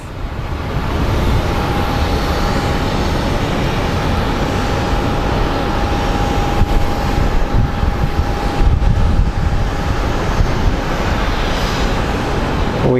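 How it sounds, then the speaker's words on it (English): An American Airlines Boeing 737 taxiing at Phoenix Sky Harbor airport, heard as a steady, continuous engine roar with a constant whine, moderately loud and unbroken, with no talk. "American Airlines 737 taxiing."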